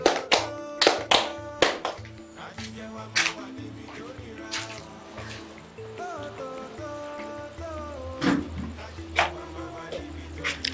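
A group of people claps hands, several loud sharp claps at first and then scattered, uneven claps mixed with overlapping voices and a music-like tonal bed throughout.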